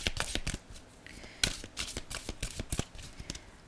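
Oracle message cards being shuffled by hand, a quick run of crisp papery riffles and flicks in uneven bursts, close and fairly quiet with no voice.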